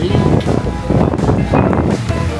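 Strong wind on overcast Boracay buffets the microphone with heavy low rumbling gusts, loud and continuous, with faint voices under the noise.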